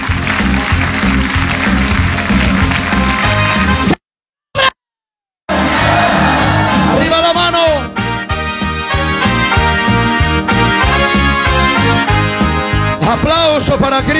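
Church congregation applauding and cheering for the Lord during a Spanish-language service, a loud, dense, sustained crowd sound with shouts over music, broken by a brief silent gap.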